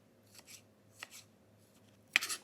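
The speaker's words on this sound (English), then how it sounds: "We're going to chop up a cucumber" Someone uses a knife to chop a cucumber on a board, giving a few sparse, quiet cutting taps, with the last one louder and sharper, heard up close and alone.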